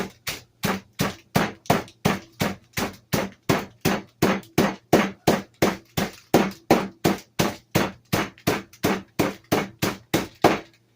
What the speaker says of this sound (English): I'm going to take the meat tenderizing hammer